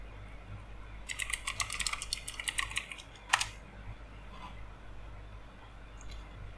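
Fast, close typing on a computer keyboard, a quick run of light key clicks followed by a single louder keystroke, then quiet room tone.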